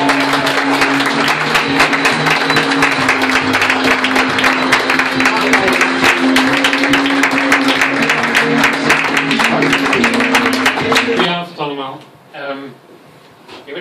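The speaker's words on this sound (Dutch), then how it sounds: "Mag ik na een daverend applaus voor onze lijsttrekker Paul Laudy." Loud, thunderous applause from a packed hall for a VVD party leader at a Leiden campaign kickoff, dense clapping under a sustained musical tone and voices, then cutting off sharply near the end as the noise fades.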